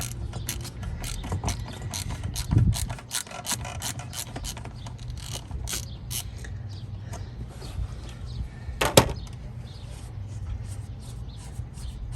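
A ratchet clicks in quick repeated bursts while cracking loose the oil filter cartridge on a 2013 Jeep Wrangler Sport, close and fairly loud, with a couple of heavier knocks.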